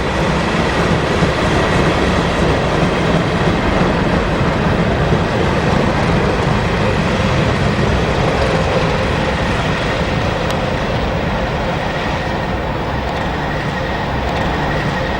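Two class 37 diesel locomotives, 37601 and 37603, haul a freight train north on the main line, a loud steady rumble and rail roar that holds without break from start to finish, close by and with no voices.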